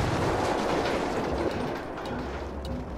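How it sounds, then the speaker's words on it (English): In-game explosion in Ghost Recon Wildlands: a broad, rumbling blast that fills the first second and a half, then fades into a lower, lingering roar with no speech. "That explosion's got him suspicious."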